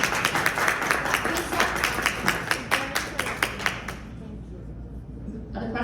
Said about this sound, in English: You deserve a round of applause for introducing this platform to us.